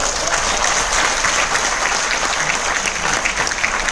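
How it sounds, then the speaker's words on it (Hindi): Loud, steady applause from an audience at a training session in Mumbai, many hands clapping densely and continuously with no break, close and filling the room. "तालियां बजानी है तो जोरदार बजाओ ना यार।"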